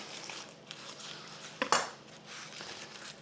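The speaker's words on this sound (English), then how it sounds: "I cut one of the potatoes in half here" A knife slices a potato in half with a quick scrape and a sharp clack against a board, amid quiet kitchen clatter.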